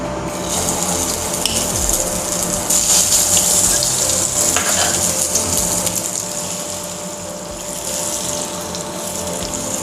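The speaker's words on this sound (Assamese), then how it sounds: "এতিয়া মই সয়াবিনখিনি অকণমান আগতে ফ্ৰাই কৰি লম তেল অলপ সৰহকৈ দি দিছো তেলখিনি এতিয়া গৰম হল" Soya chunks fry in plenty of hot oil, giving a loud, steady sizzling hiss that swells briefly midway and keeps going without any voices.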